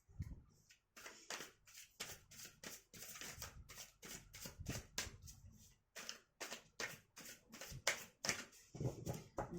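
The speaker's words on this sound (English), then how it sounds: "I'll give the cards a shuffle." A deck of tarot cards is shuffled by hand in a quiet room: quick bursts of riffling and crisp card slaps in uneven clusters, close and soft, with no talking.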